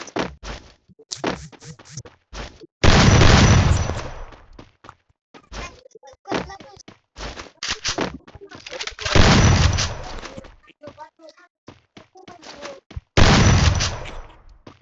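Gunfire bursts in a shooting video game, loud rapid volleys recurring every few seconds among sharper single shots and thuds, with voices chattering between the bursts.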